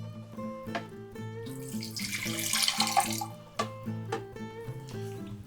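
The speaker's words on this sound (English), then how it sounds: "We'll start by pouring 112 grams of water into our blender." Water pours into a blender jar for a no-heat honey syrup, a steady splashing rush swelling for a few seconds in the middle, with faint tonal hum underneath.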